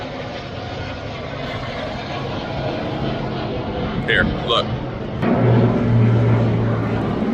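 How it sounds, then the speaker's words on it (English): An airplane flies low overhead near an active runway close to a military base, its broad engine roar building steadily and swelling louder toward the end while someone speaks briefly. "I've got another plane flying over me"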